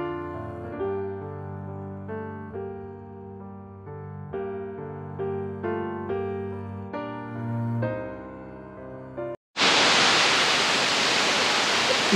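Kadappara waterfall near Chimmini Dam wildlife sanctuary in Thrissur: steady, loud broadband rush of falling water that bursts in suddenly after a stretch of music and holds constant to the end.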